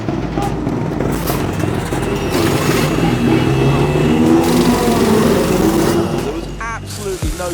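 BTCC touring cars roar away together at a green-flag race start, a dense, loud wash of engines building steadily for several seconds, with a commentator talking over the din.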